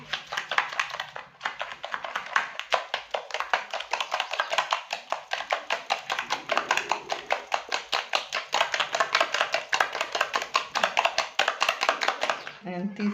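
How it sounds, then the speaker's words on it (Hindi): Eggs and sugar are beaten by hand for a sponge cake, a fast, even stream of close rhythmic whisking taps that runs nearly unbroken for several seconds before stopping. "एंड चीनी डालते जाइए, बीट करते जाएं"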